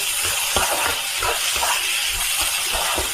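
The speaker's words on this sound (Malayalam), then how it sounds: "ഒരു മീഡിയം സൈസുള്ള 2 തക്കാളി കട്ട് ചെയ്ത് വെച്ചിരിക്കുന്നത് നമുക്കിതിലേക്ക് ഇട്ട് കൊടുക്കാം" Chopped tomatoes, two medium ones, dropped into a hot pan for channa masala, giving a steady broadband sizzle with a few soft clinks and stirring thumps underneath, close and fairly loud throughout.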